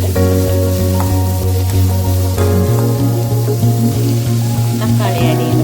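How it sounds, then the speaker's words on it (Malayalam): Brinjal masala with cashews frying in a pan, a steady loud sizzle with soft stirring clinks and a constant low hum running underneath throughout. "ജസ്റ്റ് ചെറിയൊരു ബ്രൗൺ കളർ ആവുന്നവരെ ഒന്ന് ഫ്രൈ ചെയ്യാം."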